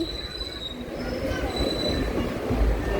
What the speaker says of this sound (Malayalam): ട്രെയിൻ എത്താറായി.